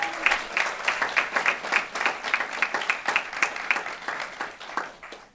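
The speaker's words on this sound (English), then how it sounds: "So how about one last round of applause for this group?" Applause from a room at a Huron Valley Schools Board of Education meeting, honoring a group of secondary staff: distinct, quick hand claps in a steady rhythm from a modest crowd, fairly close and filling the whole stretch before tapering off.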